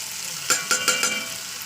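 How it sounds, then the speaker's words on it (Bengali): Curry with green chillies, salt and turmeric sizzles in a pan, a steady hiss of frying with a few short scraping stirs near the middle. "লবণ হলুদটা দিয়ে আবার একটু কষিয়ে নেবো।"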